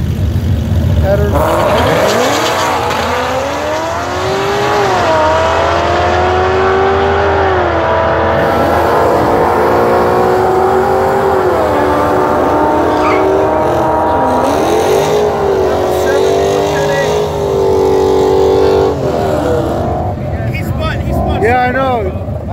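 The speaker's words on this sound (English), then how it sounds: "These two cars sound nice." A Chevy SS and another car launch at a drag strip, their engines loud and continuous with repeated rising and falling revs as they accelerate away. Voices talk over the noise throughout.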